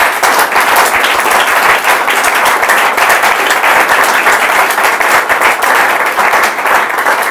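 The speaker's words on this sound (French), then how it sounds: "Acclamons encore une fois le Seigneur Jésus-Christ." A church congregation applauds loudly and steadily, dense continuous clapping from a large crowd filling the whole stretch with no pause.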